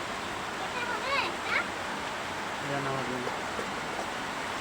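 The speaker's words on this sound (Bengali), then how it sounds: "আজকে সুন্দর বৃষ্টি নামছে" Rain falls as a steady, broad hiss that fills the whole stretch, with a few short voices speaking over it.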